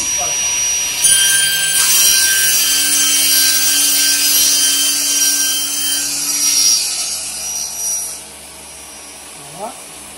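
A VPS 2241 VR E panel saw cuts through a wood panel with a loud, close, steady high whine that runs for several seconds before the blade spins down and the machine goes quiet.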